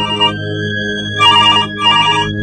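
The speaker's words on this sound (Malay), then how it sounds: "tiba-tiba kedengaran telefon rumah berbunyi" A home telephone rings in a Malay radio drama, an electronic warble that repeats in two loud bursts with a steady tone held underneath, alone with no voices.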